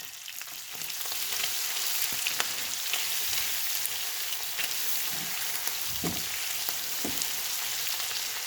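Pork curry with tamarind paste sizzling and frying steadily in a pan, a constant hiss with occasional soft scrapes and knocks from stirring, close and moderately quiet.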